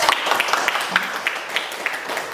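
A classroom of students claps together, a fairly close, steady patter of hands with some louder individual claps standing out in a rough rhythm, and a brief voice sounds partway through.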